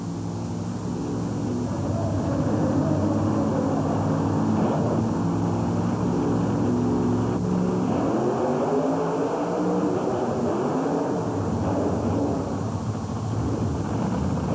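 A rear-engine supercharged Chevy monster truck roars through a race run at a 1991 USHRA event in Worcester, a loud continuous engine drone with shifting pitch sweeps as it accelerates, heard alone without talk.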